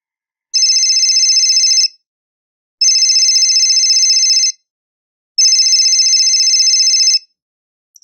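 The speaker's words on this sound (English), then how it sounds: "This morning, your phone is ringing." A telephone rings in three loud, evenly spaced bursts of electronic trilling, each lasting over a second, separated by brief silent pauses, with no voices present.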